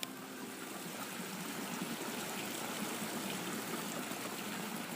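Water fountains in an outdoor market splash and trickle steadily, a soft, even wash of falling water heard from a moderate distance with no talking.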